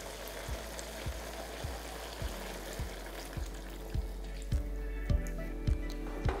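Chicken simmering in a sauce over a high flame while cooking kung pao chicken: steady bubbling sizzle with soft drips and stirring, punctuated by regular low thumps that grow louder toward the end.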